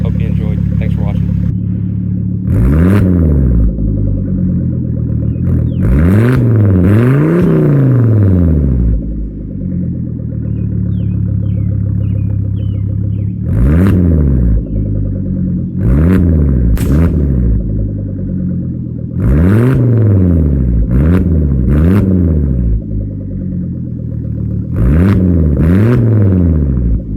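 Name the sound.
project car engine revving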